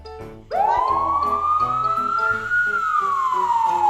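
A toy police car's loud, sustained siren wail rises and holds, then slowly falls, with faint clicks and low rumbles underneath.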